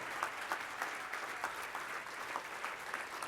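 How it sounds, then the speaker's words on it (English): Audience applause at a sports hall of fame induction ceremony for the class of 2024: a sustained wash of clapping from a large, somewhat distant crowd, steady and fairly soft, with no talk over it. "One more round of applause for all of the class of 2024."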